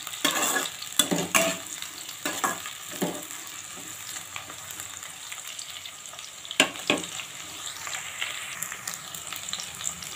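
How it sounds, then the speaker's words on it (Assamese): Onions and two dried red chillies fry in oil for palak chicken, a quiet steady sizzle broken by repeated sharp scrapes and clinks of a stirring spoon against the pan, close up with nobody speaking. "পিঁয়াজখিনি এতিয়া মই ৰঙচুৱা হোৱালৈকে ভাজি ল'ম।"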